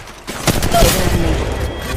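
Gunfire in the mobile battle-royale game Apex Legends Mobile, a dense burst of rapid shots with a booming low end, continuous and loud across the short span.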